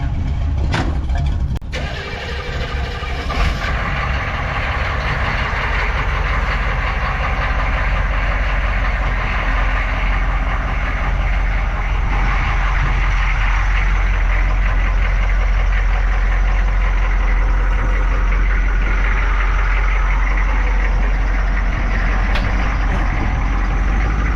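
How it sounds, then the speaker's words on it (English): Humvee engine idling and running at close range while set to pull an old 1966 Chevy C10 truck, a loud, steady low rumble with a few brief knocks near the start. "let me get the Humvee out, get this truck pulled in."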